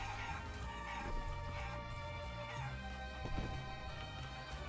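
Chicken clucking in the Guacamelee video game, game-audio fowl sounds over a steady music bed with a continuous low drone, moderately loud and unbroken.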